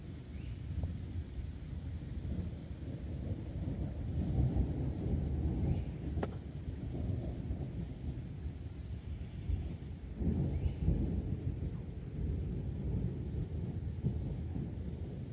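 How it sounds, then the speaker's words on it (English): Low, distant thunder rumbles and rolls in long swells beneath a steady outdoor wash of wind and faint background noise, heard beside woods on the American Discovery Trail. "Of thunder rolling by."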